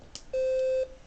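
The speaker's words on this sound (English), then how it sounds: "It says that there's an alarm now." An Arduino-based smoke and fire alarm controller emits a single steady electronic beep lasting about half a second, clear and close, preceded by a faint click.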